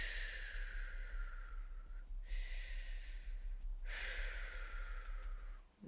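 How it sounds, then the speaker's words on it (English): Slow, deep breaths taken during a calming tapping exercise: two long, airy exhalations, each several seconds, close and clear over a steady low room hum, with a quieter breath beginning at the very end. "Let's just take 3 deep breaths."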